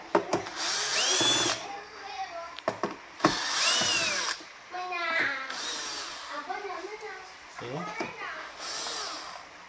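Cover screws are taken out of a Philips steam iron in several loud, whirring mechanical bursts spread across the clip, with a voice talking in the gaps between them.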